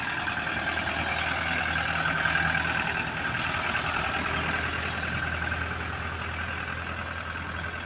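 A truck creeps slowly along a fog-bound road on a foggy morning in Kuwait, its engine giving a low, steady, continuous drone at moderate distance, with a faint beeping tone riding over the traffic noise.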